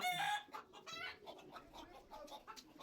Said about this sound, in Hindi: ये देखो यार कितनी तेज है ये मुर्गा है